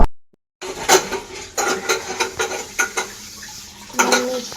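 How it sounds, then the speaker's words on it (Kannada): Dishes and pots being washed by hand, with a quick run of clinks, knocks and scraping clatters after a brief silence, close by and without talk. "ಪಾತ್ರೆ ತೊಳಿತಾ ಇರ್ತೀನಿ."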